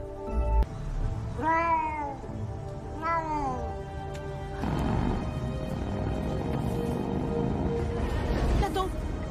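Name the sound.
kitten meowing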